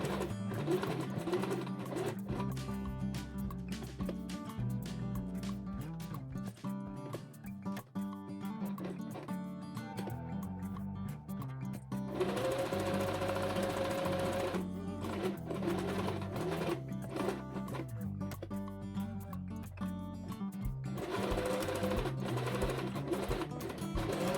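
A sewing machine stitches the top edge of a crochet pocket flap in long continuous bursts of rapid, rhythmic mechanical whirring, with short pauses between runs.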